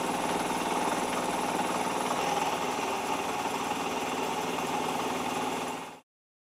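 Metal being milled away to form the sloping shoulder of a wig-wag steam engine's main column, a steady loud mechanical grinding drone with a continuous machine hum that runs unbroken for six seconds and then cuts off abruptly.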